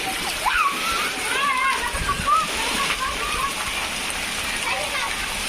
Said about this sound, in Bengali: সন্ধ্যাবেলায় দেখো বৃষ্টি আরম্ভ হয়ে গেছে